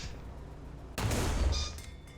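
Gunfire in the War Thunder tank game cuts in suddenly after a quiet hum, a loud burst of shot and rumbling blast that lingers and fades over a second or so.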